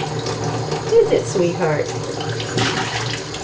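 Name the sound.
running shower water for a budgie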